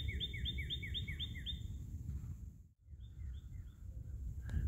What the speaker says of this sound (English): Love listening to the birds